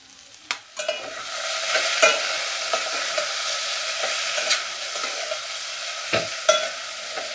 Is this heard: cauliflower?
yes